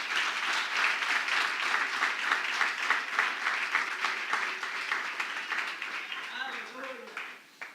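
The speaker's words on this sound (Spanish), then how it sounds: "Yo creo que usted le dé un aplauso al Señor ahí." An audience in a church service applauds for the Lord, steady dense clapping that fills most of the stretch and fades toward the end, with a voice emerging faintly at the close.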